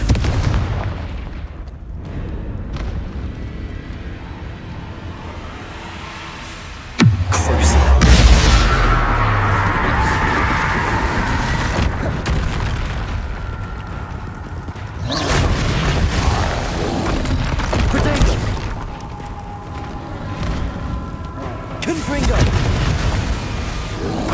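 The Bombarda explosion spell in Hogwarts Legacy goes off with a heavy boom, then a long rumbling tail amid ongoing battle noise, with further bursts and a voice now and then.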